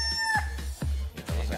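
A man on a Filipino TV game show imitates a rooster crowing, giving a short series of loud, clucking crow-like calls with his voice, close and alone for under two seconds.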